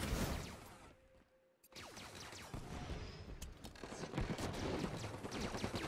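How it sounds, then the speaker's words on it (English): Gunfire in a competitive first-person shooter match, faint and distant bursts and scattered shots crackling through the clip, with a brief quiet gap near the start. "I hear a lot of shooting"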